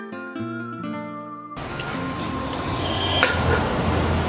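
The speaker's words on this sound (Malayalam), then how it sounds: "ഇനി നമുക്കിത് നമ്മൾ ഈ ഉപ്പ് ചേർത്ത് വെച്ചേക്കുന്ന പോർക്കിൻ്റെ ഉള്ളിലോട്ട് ചേർക്കാം." Spiced masala paste tipped into salted pork inside a pressure cooker for pork vindaloo, a dense scraping, stirring and wet sizzling rush that follows a brief stretch of music and keeps rising, with a sharp metal clink near the end.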